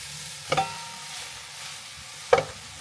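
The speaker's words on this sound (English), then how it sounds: "what we're looking for is the meat to sear and go brown, change colour all over, and the onions to caramelize" Minced keema and onions fry in a large pot, a steady soft sizzle broken by two sharp scraping knocks from a stirring spoon about two seconds apart.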